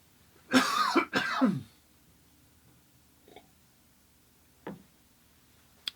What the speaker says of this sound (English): Wow, I have a cough